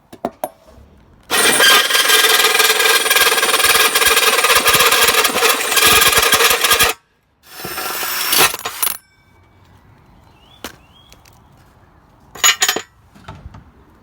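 Power tool cutting a hole in a metal Mantec sump guard for a Land Rover Freelander 2: a loud, steady cutting whine for about five seconds, a shorter second burst, then quiet clinks and handling.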